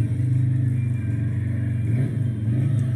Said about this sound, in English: So he's definitely putting power to the motor to throw it around through this section.